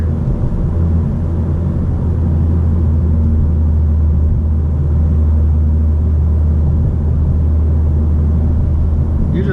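A car accelerates, picked up on a GoPro Hero 5 Black, as a loud, steady, close engine and road drone with a strong low hum throughout and faint speech.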